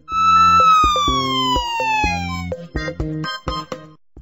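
A police car siren wails loud and close: a long falling electronic tone sweeps down for about two and a half seconds, then breaks into short sharp repeated yelps.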